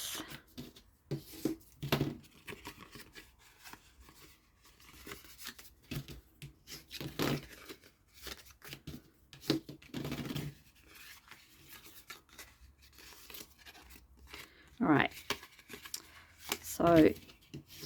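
Patterned floral paper for a mini matchbox, folded and burnished along score lines, giving intermittent close rubbing and crisp paper swipes between stretches of talk.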